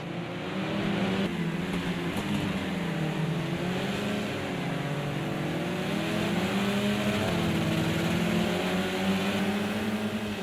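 Race cars circle Brands Hatch Indy in Project Cars 2, with the engines holding a steady loud drone whose pitch rises and falls through gear changes and bends, several cars blending together without a break.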